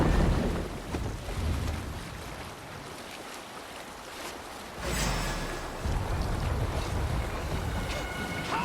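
Viking longship sailing out to sea in Assassin's Creed Valhalla, with wind and waves rushing around the hull, a quieter lull midway before the water and wind surge louder again.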